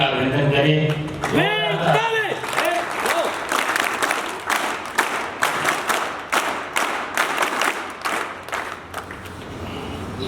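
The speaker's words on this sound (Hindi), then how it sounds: "इतना बढ़िया बच्चों ने अपनी जो प्रस्तुति दी है, उन सब के लिए हम सब लोग जोरदार तालियों से उनका अभिनंदन करें।" An audience at a gurukul event applauds a children's performance with a burst of scattered clapping that builds and continues, following and partly under a man's amplified speech.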